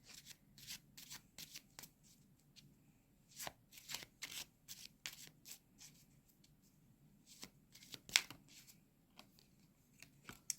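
Playing cards are shuffled during a tarot reading, a close series of quick riffles and soft slaps in irregular bursts with short gaps, quiet and without speech.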